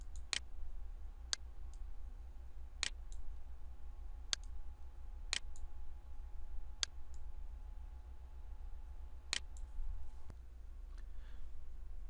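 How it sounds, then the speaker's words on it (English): A computer mouse clicks sharply about ten times at uneven intervals, close and crisp over a faint steady background hum. "And then click Close."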